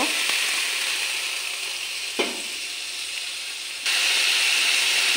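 Spice paste with turmeric and salt frying in a pan for a small rohu fish curry, a loud steady sizzle and hiss with a brief clink, the sizzle swelling suddenly near the end as water hits the pan.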